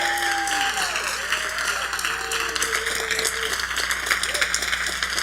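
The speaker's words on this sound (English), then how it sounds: "Come on, put your hands together." An audience claps hands at a motivational talk on identifying opportunities, a dense, continuous patter of applause at even loudness throughout, with faint tonal sounds and light voices beneath.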